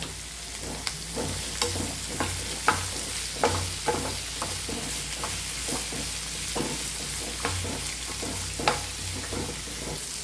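Sliced onions with a little salt sauté in a pan for a puffs filling, a steady loud sizzle broken by regular scraping stirs of a spoon, with no voices.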